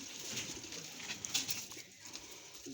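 Pigeons in a loft give soft, repeated cooing calls over a steady hiss of background noise, with no talking.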